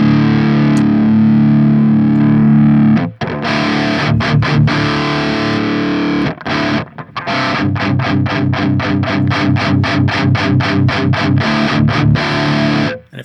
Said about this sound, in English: you'll really hear the difference with the clipping here